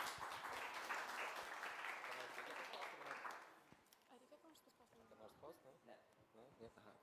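An audience at an entrepreneurship event applauds a speaker being welcomed to the stage, a dense burst of clapping for about three seconds that thins to scattered claps as talking begins.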